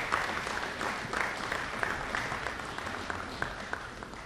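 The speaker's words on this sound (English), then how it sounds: "So please give your parents a round of applause for all their hard work and dedication," Warm, sustained audience applause at a spring athletic signing ceremony, honoring the athletes' parents; many hands clapping in a dense wash with a few sharper individual claps, steady and moderately distant.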